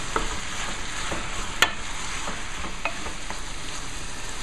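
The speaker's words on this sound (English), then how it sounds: "now I'm just going to mix everything together once again" Ground lamb and pancetta bacon stirred in a frying pan, a steady close sizzle with light scraping of the utensil and one brief sharp clink.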